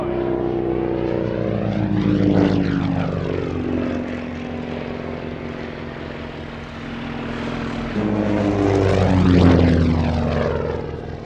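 Propeller-driven training aircraft engine at an airfield display, a loud, sustained drone that swells as the plane passes close by, fades, then builds again in a second pass.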